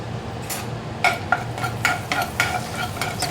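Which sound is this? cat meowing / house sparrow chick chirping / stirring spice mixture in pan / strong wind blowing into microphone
stirring spice mixture in pan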